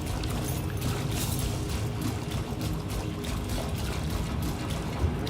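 A character moving through water in the Satisfactory video game makes continuous splashing and pouring water sounds, a dense steady wash with small surges.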